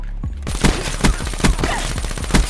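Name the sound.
shotgun gunfire in a video game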